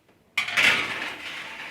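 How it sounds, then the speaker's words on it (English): A metal baking pan lined with parchment and coffee-stained paper slides onto an oven's top shelf with a sudden metallic clatter, then rings and scrapes briefly before settling, close and alone. "I'm just going to put my pan with the parchment paper and the coffee stain paper on the top shelf"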